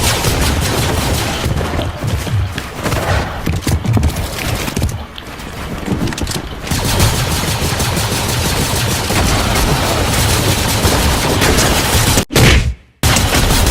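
Sustained, dense gunfire fills a video game match, rapid overlapping shots and bursts running almost continuously and loud, with a brief drop near the end.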